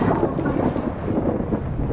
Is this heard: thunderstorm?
yes